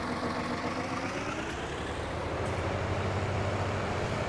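A K700 tractor engine in Farming Simulator 19, a steady low droning rumble as the tractor drives, constant and close with no pauses and no talk.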